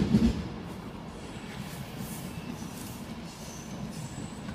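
A train rolls through Stafford station on the main line, a low, fairly quiet steady rumble of wheels and track with a brief louder thump at the start and no voices.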